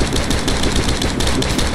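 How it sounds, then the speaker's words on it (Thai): Rapid automatic gunfire while shooting zombies in State of Decay, a loud continuous burst of closely spaced shots running without a break. "ต้องยิงแล้วแหละต้องยิงจากระยะไกลแล้วแหละฮะ"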